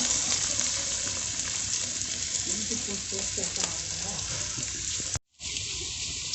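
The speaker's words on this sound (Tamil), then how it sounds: "எண்ணெய் வச்சு கடுகு போட்டு கொஞ்சம் வெங்காயம் கருவேப்பிலை போட்டு நல்லா தாளிச்சிக்கலாம்." Mustard seeds, onion and curry leaves frying in hot oil for a village-style country chicken curry, a steady loud crackling sizzle that fills the whole stretch and cuts out briefly near the end.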